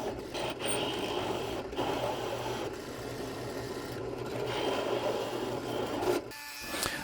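Material being removed from a scale model's leg piece makes a steady, close mechanical grinding and whirring that runs continuously with slight changes in pitch and a brief dip near the end.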